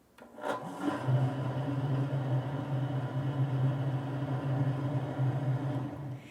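Almond milk ingredients are briefly mixed, giving a steady rubbing, scraping sound with a low hum that runs evenly for several seconds after a brief start, close by, with no talking.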